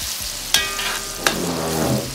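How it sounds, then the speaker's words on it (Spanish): Bell pepper, garlic and onion sautéing in a pan, a steady close sizzle with two sharp clanks of a utensil against the pan partway through and some stirring scrapes, no talking. "Que se sofría todo."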